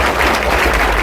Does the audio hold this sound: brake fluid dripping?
no